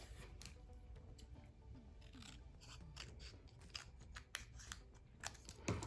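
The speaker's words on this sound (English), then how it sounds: "I'm going to cut this one in half" Scissors cut a sheet of paper in half during a paper craft project, heard as a close, steady run of crisp snipping and rasping strokes with no talking.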